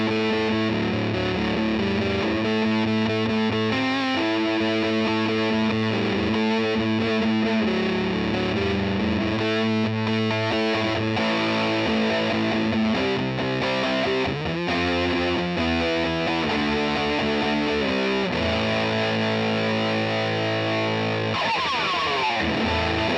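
An electric guitar played through a heavy distortion pedal, driven into a buzzy, square-wave, synth-like tone, sounds steady chords and riffs continuously for over twenty seconds, loud and alone.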